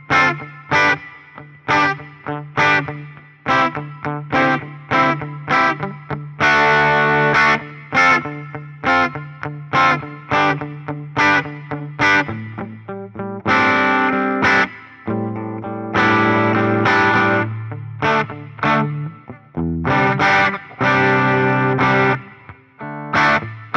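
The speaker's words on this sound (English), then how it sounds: "And here's the large plate reverb." An electric guitar played through a Fender Tone Master Pro with a large plate reverb rings out in strummed chords and picked notes, each attack trailing a long, washy decay; loud and continuous, with no voices.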